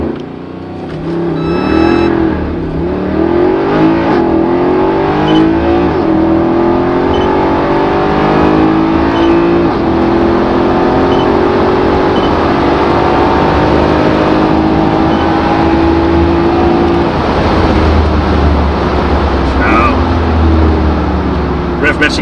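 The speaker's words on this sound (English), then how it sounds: "So what I now need to do is put it in first gear, rev it up, let it go." A Mercedes SL63 AMG R230 with its naturally aspirated 6.2 V8 performs a race start launch, the engine held at high revs and then pulling hard through rising gears, loud and close with a voice briefly heard.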